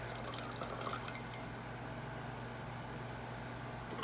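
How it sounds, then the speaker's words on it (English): Water poured out of two 30 oz tumblers, a Yeti and a Patriot, with their lids left on, making a steady, continuous trickle through the small lid openings, close and fairly quiet throughout with no talking. "Let's just pour the water out and see what we got."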